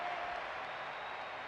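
A 1920 baseball crowd applauds steadily, dense clapping and crowd noise holding at an even level throughout.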